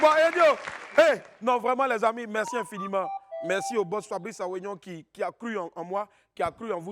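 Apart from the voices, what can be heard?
No everyday noises stand out.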